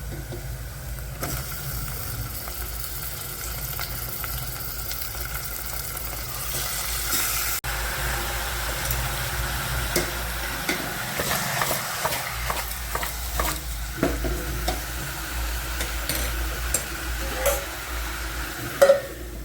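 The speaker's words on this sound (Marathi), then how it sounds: "चिकन टाकून घेऊ." Chicken pieces frying with onion, turmeric, oil and salt in a pan for a village-style chicken curry, with a steady sizzle and stirring scrapes building in the second half, close and fairly loud with no talk.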